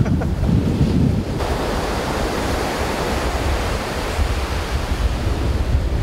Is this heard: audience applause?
no